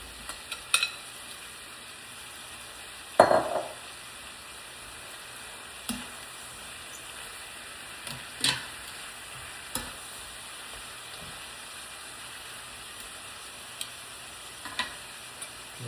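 Beef for lomo saltado goes into a hot pan, with a steady low sizzle of frying broken by scattered scrapes and clacks of stirring, one louder knock standing out early on.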